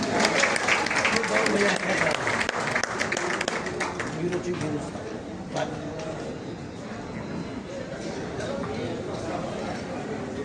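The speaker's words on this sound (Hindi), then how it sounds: "जोरदार तालियां होनी चाहिए आप सभी।" Loud, sustained audience applause at a Hindi public honoring ceremony, dense clapping filling the whole stretch with crowd noise beneath, easing slightly after the first few seconds.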